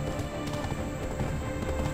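Horse hooves clip-clop steadily while riding in the video game Black Desert, a dense continuous trotting rhythm at fairly loud level with no talking.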